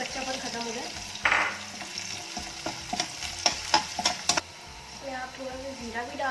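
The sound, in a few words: onion frying in a pan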